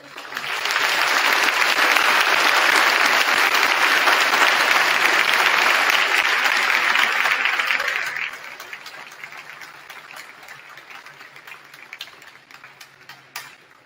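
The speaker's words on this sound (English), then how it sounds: "Please give a round of applause for all of our caregivers." Audience applause for caregivers at a high school awards ceremony; loud, dense clapping swells up quickly, holds steady for several seconds, then drops abruptly to scattered claps that trail off.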